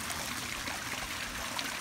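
Recirculating water trickles and splashes steadily down a pondless waterfall, a continuous close bubbling stream with no voices.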